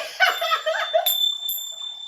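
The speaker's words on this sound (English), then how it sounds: "And give everyone a little clang of the bells, Pam, before we go." Small hand bells rung in a clang, bright sustained ringing tones that enter after a burst of laughter and chatter and linger as they fade.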